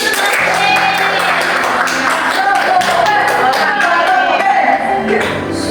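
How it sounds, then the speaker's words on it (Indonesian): A classroom of pupils claps hands together, a rapid, loud patter of many claps with voices and shouts mixed in, lasting several seconds. "Tepuk tangan."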